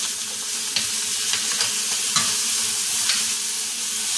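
Steak sizzles in a hot pan after a flip, a loud steady frying hiss with a few sharp clicks and taps from the utensil spaced through it, heard up close without speech.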